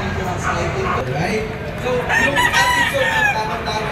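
LDT Gold gamefowl rooster crowing at a gamefowl expo, a loud nearby crow rising over clucking birds and a busy crowd murmur.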